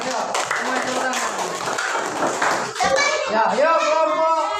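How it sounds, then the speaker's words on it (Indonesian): Schoolchildren in a classroom coding and AI lesson clap for their classmates, the hand claps mixed with lively children's voices and talk throughout. "Yuk, semua tepuk tangan."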